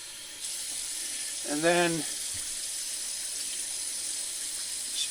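Cold water runs steadily from a kitchen tap into a sink to fill a container for an egg float test, a constant close hiss while a voice speaks briefly.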